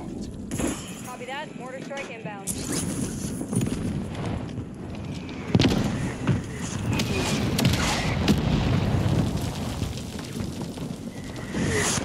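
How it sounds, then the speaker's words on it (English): Artillery strikes from a called-in fire mission in the video game Warzone, set in Urzikistan, land as several heavy booming explosions over constant gameplay noise, with one sharp loud blast near the middle. "Requested fire mission target"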